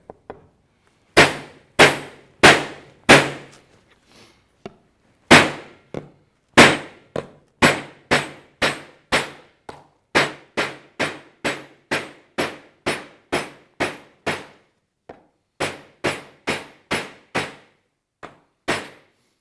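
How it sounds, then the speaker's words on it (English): Hand hammering on sheet metal while shaping a cafe racer motorcycle fender from scratch: some thirty sharp, ringing metallic strikes in a steady, close, loud rhythm with short pauses, and no talking. "it allows us to shape the metal much quicker and stretch it by hammering into it"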